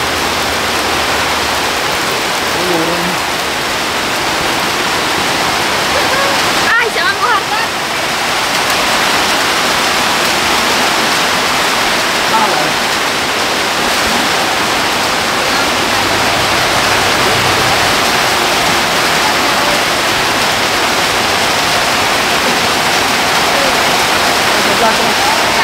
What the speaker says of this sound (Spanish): Hoy sí nos agarró la lluvia fuerte. Aquí en la cámara no se ve tan fuerte, pero está muy fuerte.